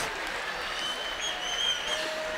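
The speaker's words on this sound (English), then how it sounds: "And look how you lot clap like I'm not in debt." Applause from a comedy audience at the London Palladium, steady, medium-loud clapping spread across a large room that holds without a break.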